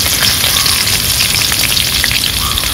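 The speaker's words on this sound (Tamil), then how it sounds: "எண்ணெய் நல்லா காஞ்சிருச்சு. இப்போ கடுகு போட்டுங்க." Mustard seeds sizzle and crackle in hot oil in a pan, a dense, loud frying hiss with scattered pops throughout, close up and without any voices.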